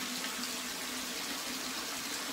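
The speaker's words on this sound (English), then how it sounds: "so I better turn on some cold water. Get the water filled up over the jets" Cold tap water pours steadily into a jetted bathtub, filling it above the jets; a continuous broadband rush with a faint hum, moderately loud and uninterrupted, no voices.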